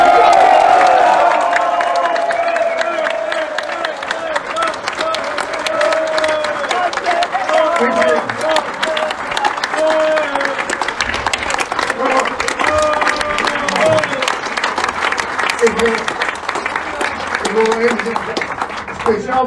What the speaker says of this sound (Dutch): laten we eindigen met een daverend applaus.